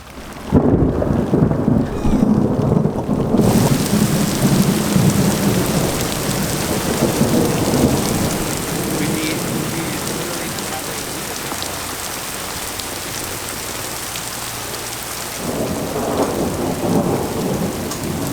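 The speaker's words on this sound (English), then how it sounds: "every storm we've had is so ferocious and lasts like 5 to 10 minutes, then it's gone" A ferocious thunderstorm with heavy rain at a cabin in the northern Canadian wilderness, steady drumming downpour with loud rolling thunder crashing near the start and again toward the end.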